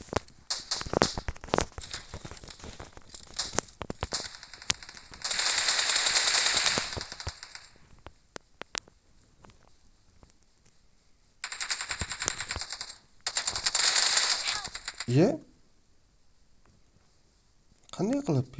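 Gunfire erupts in a video game shootout: bursts of rapid automatic shots come in several loud clusters separated by quieter gaps, with someone talking over the action.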